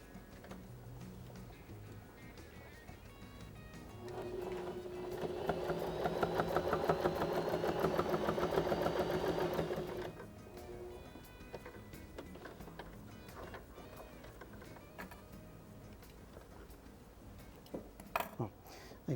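A sewing machine stitches patchwork squares onto felt for a patchwork bag, a fast, rhythmic mechanical whir that runs for about six seconds in the middle, then stops, leaving quieter handling sounds.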